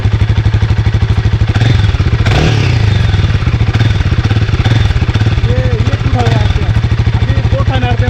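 A Royal Enfield Himalayan 450 motorcycle engine blipped up to about 2000 RPM, a loud close thumping pulse that rises briefly in pitch then settles back toward a steady idle, with a voice speaking over it.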